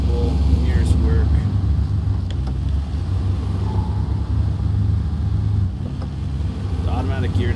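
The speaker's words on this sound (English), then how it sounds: "engine sound is reasonable" A Land Rover Defender 90 engine in SnowRunner runs with a steady low rumble, idling and cruising close up, dipping slightly near the end.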